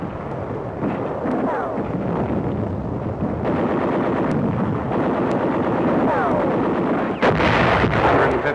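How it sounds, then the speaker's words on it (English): WWII troops firing rifles and guns at Japanese snipers in wartime combat footage: rapid bursts of gunfire and sharp shots crackle over a loud, constant rumbling din, with a narrator's voice over them. "Troops edge forward, picking off Jap snipers with close rifle fire"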